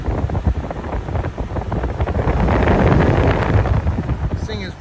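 A 1994 EQK-rebadged Fedders 10,000 BTU window air conditioner fan, somewhat out of balance, blows loudly with a rushing, wind-like roar and faint uneven thumping.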